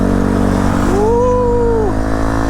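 A new motorcycle engine, bought to replace a Honda Grom, revs up and falls back once in a steady near rise-and-drop over a running idle, with no talk.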